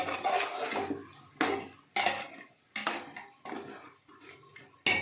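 Metal utensils clank against a pot of Nellore-style mutton biryani during mixing, with several sharp, loud knocks and a lid-like clatter spaced a second or so apart, separated by softer scraping.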